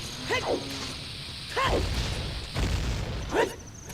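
Bombs going off in Zelda: Ocarina of Time, three separate game blasts spaced about a second apart, each a short thud with a swishing tail, at moderate volume over low background noise.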